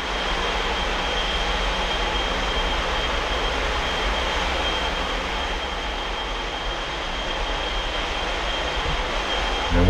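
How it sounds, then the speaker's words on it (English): A jet-engine snow blower, fitted with an engine said to come off a Korean Air Force aircraft, clears snow from the Mattapan Line rails with a steady, loud, continuous roar and hiss that holds unbroken throughout. "You got a jet engine in the front."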